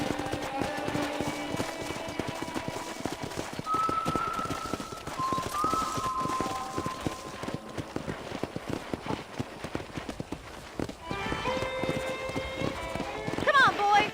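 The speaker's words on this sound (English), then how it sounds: "let's see if you can still ride a horse" Horse hooves clip-clopping at a steady gait in the Red Dead Redemption video game, running under a man's speech, with a short whinny-like tone in the middle and music toward the end.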